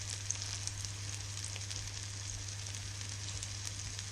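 Rabbit livers dredged in flour fry in a pan with a faint, steady sizzle and soft crackles, a low hum underneath and no talking.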